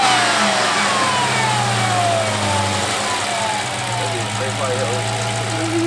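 Dodge Challenger Hellcat Redeye V8 engine roaring loudly and close, a continuous heavy rumble with revving that sweeps down in pitch and then holds near idle, with people talking over it.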